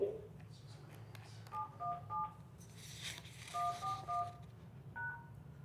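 Telephone keypad DTMF tones, a series of short beeps in two bursts of three followed by a single tone, entering an audio PIN to join a county conference call, heard over a low background hum.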